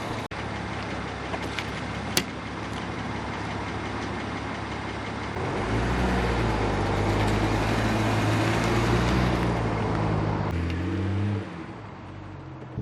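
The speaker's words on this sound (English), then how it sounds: "Let's go take it for a first drive." A rebuilt, previously wrecked BMW 135i idles on its first drive, then its engine rises into a louder, steady drone as it pulls away and drops back, heard from inside the car.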